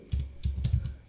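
Keys tapped on a computer keyboard while a web address is entered in a browser, a few quick clustered keystrokes close by and fairly quiet, with no voice.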